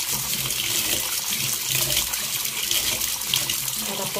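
Glutinous rice is washed under a running kitchen tap for bibingkang malagkit, a steady close rush and splash of water that fills the whole stretch without pause.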